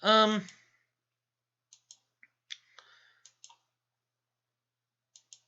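Computer mouse clicks during a GeoGuessr game session, a short burst of talk at the start followed by sparse, quiet, isolated clicks spaced irregularly across several seconds.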